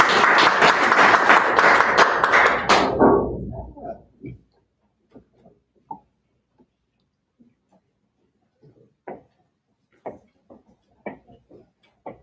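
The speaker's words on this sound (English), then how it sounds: "Give a big applause." Audience applause at a tech community meetup swells loud and dense for about three seconds, then fades into a few scattered, isolated claps and light taps.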